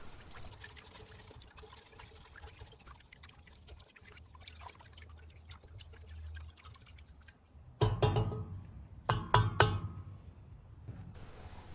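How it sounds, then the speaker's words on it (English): Potassium nitrate being stirred into water in a container, quiet swishing and trickling at first, then a few louder close clinks and splashy scrapes of stirring near the end. "we need to now give it a stir and mix until the potassium nitrate is completely dissolved in the water"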